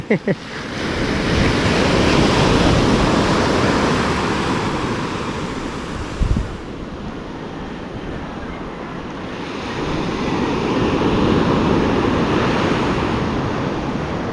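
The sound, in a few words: big ocean waves crashing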